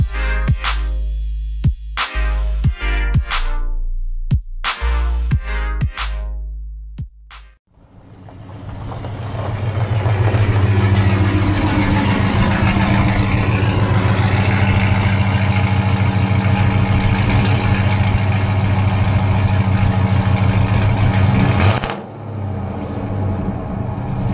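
A car engine starts and then runs steadily and fairly loudly at idle for about fifteen seconds, after several sharp clicks and knocks as vehicles are moved around in a driveway, then cuts off near the end.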